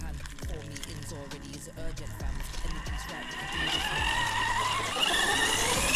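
An Arrma FireTeam RC car with a new Max6 Gen 2 1650kV motor drives and skids, its motor whine climbing steadily louder and higher toward the end over scuffing tires, with a voice speaking over it.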